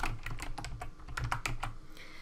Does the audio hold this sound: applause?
no